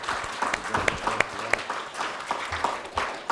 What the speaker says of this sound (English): I think if we can all just give Dean and Richard a round of applause.